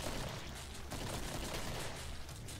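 Dense, continuous gunfire from the zombie shooter game Killing Floor, a loud unbroken barrage of rapid shots with no pause across the whole stretch.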